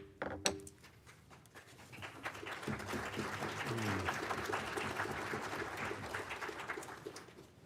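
A roomful of people at a county commissioners' business meeting in Douglas County applaud a newly adopted resolution, with steady, moderately loud clapping that builds after a few scattered claps and holds to the end.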